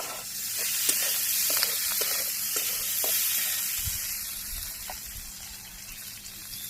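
Potatoes and chopped onion fry in a pan, giving a continuous bright sizzle and hiss with small crackles and a few soft low thumps as pieces are stirred.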